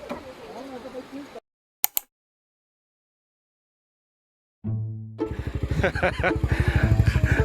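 A Honda Forza 300 scooter being ridden, its engine starting after a gap of silence and building into a loud, pulsing drone, with speech and rustling heard earlier in the clip.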